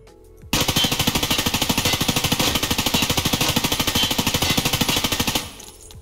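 M4 rifle in the video game Escape from Tarkov firing one long fully automatic burst of about five seconds, a fast, steady, loud stream of shots that stops abruptly, with no talk over it.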